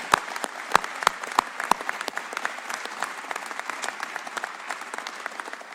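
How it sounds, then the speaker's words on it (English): A crowd of civilians at a press conference on F-35 basing claps in a warm round of applause, with some sharp, loud individual claps standing out near the front of a steady patter. "let's give them a warm round of applause"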